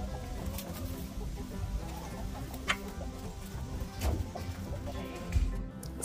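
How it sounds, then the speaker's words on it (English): Free-range homestead chickens cluck intermittently nearby, with scattered short calls over a low background and a few louder thumps, while a person speaks at times. "get them chickens let out so they can get free ranging"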